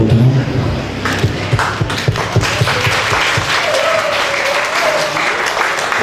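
Guests clap at a wedding ceremony after the exchange of rings, with loud scattered claps at the start that settle into continuous applause, and a voice briefly audible underneath.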